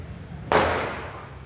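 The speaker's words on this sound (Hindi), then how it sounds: "यहाँ पर ये पटाखा लगा रहा है" A single Diwali firecracker bursts with one sharp, loud bang outdoors, followed by a short fading rumble against quiet background noise.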